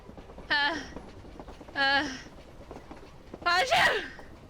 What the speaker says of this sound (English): another sneeze tears its way through my throat.